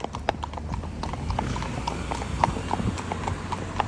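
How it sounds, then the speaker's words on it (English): Two horses hacking on a main road clip-clop at a relaxed walk, with steady, evenly spaced hoofbeats ringing on the hard surface close by. "These horses are making life extremely easy."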